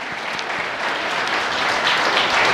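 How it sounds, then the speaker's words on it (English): Audience applause at a Lenovo Transform tech event in New York City, a full dense round of clapping from a large crowd that holds steady and swells slightly toward the end. "How about a big round of applause for Shanil?"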